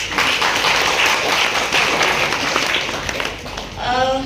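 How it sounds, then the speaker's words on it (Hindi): Audience applause fills a packed hall at a Parsai literary and theatre event in Mumbai, with dense clapping that runs steadily and fades near the end as a voice begins. "परसाई जी के लिए पूरा हॉल खचाखच है, तालियां बनती हैं।"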